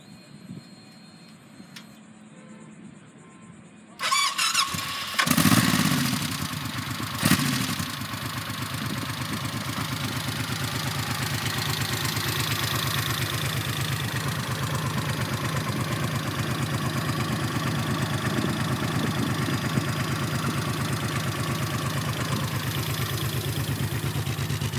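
A 2002 Honda VTX 1800 motorcycle with a large V-twin engine and 61,177 miles cranks and fires up, then settles into a steady, loud, throbbing idle that runs on without a break. No one speaks.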